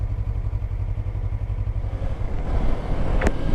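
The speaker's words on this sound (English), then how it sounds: "riding a bike that's falling apart." An old, worn-out motorbike that is falling apart, its engine a steady, close, loud low rumble while riding, with a brief sharp clatter near the end.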